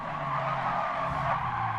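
Tires squeal in a continuous, close skid during a Gran Turismo Sport race, a sustained high screech over the engine's hum.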